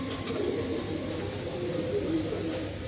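Pigeons coo softly in a Delhi pigeon loft, low murmuring calls that continue steadily over faint background noise, with no talk.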